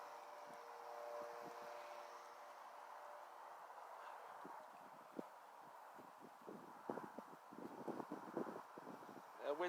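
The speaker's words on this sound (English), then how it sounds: "Wind has picked up a little." Wind blows across an open model plane flying field in a soft, steady rush, broken by scattered rustles and buffeting bumps against the microphone.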